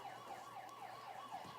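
A siren wails in a steady rising and falling cycle at a high school football game between South Rowan and Central Cabarrus, faint and distant, with no other sound over it.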